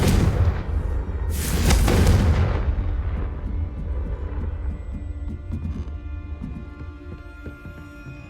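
A Confringo spell explosion in Hogwarts Legacy gameplay: a loud blast that booms early and then decays into a long rumbling tail, with no talk over it.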